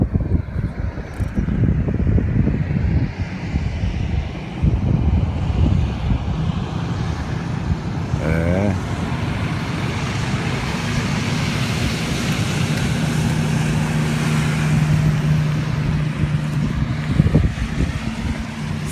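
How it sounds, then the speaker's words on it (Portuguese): A motorboat departing on open water, its broad low engine rumble steady and fairly loud for the whole stretch, mixed with wind buffeting the microphone and the hum of the boat carrying the listener. "Vou mostrar para vocês uma lancha que está saindo aqui"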